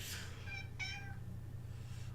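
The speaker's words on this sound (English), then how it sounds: "our little resident kitty cat here joining us in the commentary" A cat meows twice in quick succession, fairly soft and close, over a low steady room hum.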